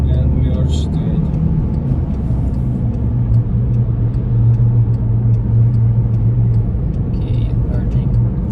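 A car accelerating to 80 on a road during a driving test gives a steady, loud engine and road rumble with a rising tone, while an instructor and driver talk over it.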